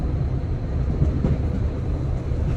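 Steady low rumble and rattle of a train rolling toward Lake Attersee in Austria, a continuous loud drone with no voices aboard.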